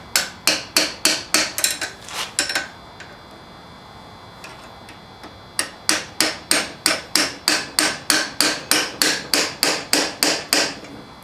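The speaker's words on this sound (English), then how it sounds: "So I've got a little brass drift here and my hammer." Hammer tapping a brass drift into a truck's ball joint during a C10 bucket seat swap: sharp, evenly spaced metallic strikes in quick bursts, a pause of a few seconds, then a longer steady run of close taps.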